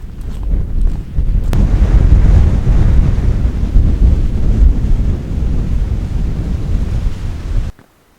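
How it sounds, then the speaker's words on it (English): Strong winter wind on a frozen Lake District mountain buffets the microphone in a loud, continuous low roar for several seconds before cutting off abruptly. "That's probably the 6th time my camera's been blown over by the wind this morning."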